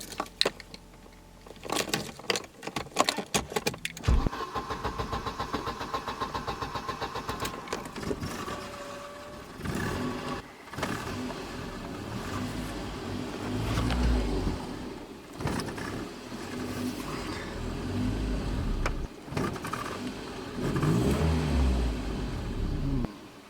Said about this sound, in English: I'm gonna try to start the car now and show you what is she doing.